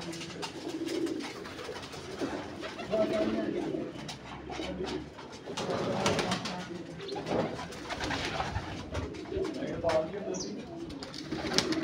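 Pigeons coo on a village rooftop in Pakistan, soft repeated throaty calls rising and falling in a loose rhythm, with someone talking quietly in the background.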